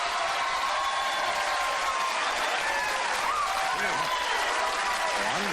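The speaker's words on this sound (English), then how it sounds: "I'll let you applaud" Studio audience at a late-night comedy talk show applauding continuously, a dense, steady wash of clapping that fills the whole stretch at even loudness with no talk over it.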